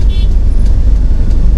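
Morning road traffic on Lias Road near SM in the Philippines, a steady low rumble of passing cars and engines close by with no clear break, and a voice audible faintly over it.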